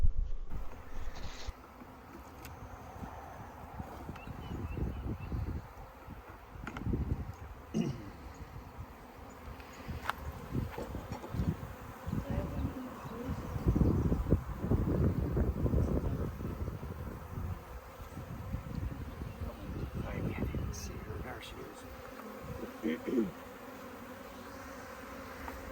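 Honey bees drone steadily in a classroom hive, a continuous close buzz with individual insects swelling louder as they pass near, alongside faint background noise and no talk.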